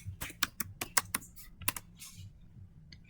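Sharp, uneven keystrokes on a computer keyboard entering a Cisco switch configuration command, a quick burst of clicks followed by a few softer taps, close and clear with no talk.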